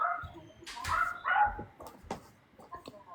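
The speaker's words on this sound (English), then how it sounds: "I heard barking." A dog barks several times in short irregular bursts, fairly close, with some higher yips and whimpering sounds between the barks.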